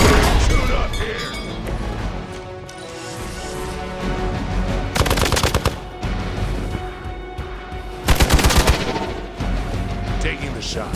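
Gunfire from the video game Marvel's Midnight Suns: two loud, crackling bursts of rapid shots over a dense, continuous game soundtrack and effects.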